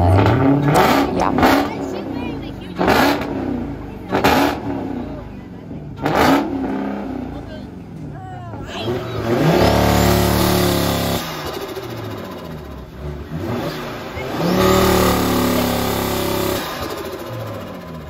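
Car engines revving at a car show, bursts of loud revving and rumbling in the first half giving way to steady engine noise, with crowd chatter and voices throughout.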